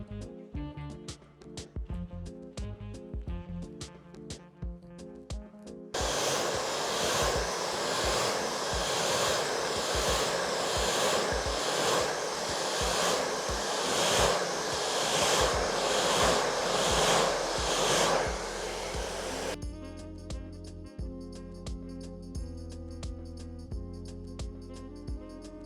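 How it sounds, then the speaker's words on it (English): A hair dryer blows steadily on hair during a silk press, a loud, continuous broadband rush that holds for about thirteen seconds between stretches of background music. "Finish blow drying."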